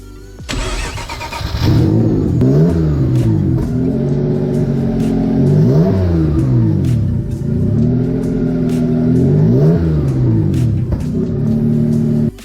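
Car engine fitted with a new turbo cranks and fires up, then idles loudly and close while revved in repeated rising and falling sweeps, no talk.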